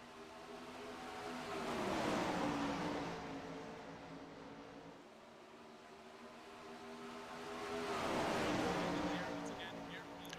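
Several 410 outlaw sprint-style race cars roar around a dirt track during a heat race, engine noise swelling as the pack passes near around two and eight seconds and easing between, with harmonic engine tones throughout.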